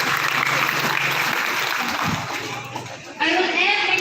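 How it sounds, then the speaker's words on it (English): A crowd at a high school graduation ceremony applauds the teachers with steady, loud clapping that thins out near the end, and a voice speaks at the close. "Let's give them a round of applause."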